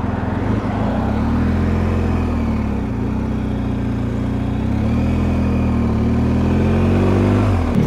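Motorcycle riding along the E10 road in Norway's Lofoten Islands, a steady close engine drone with wind noise and gentle shifts in pitch as it holds speed, with no talk.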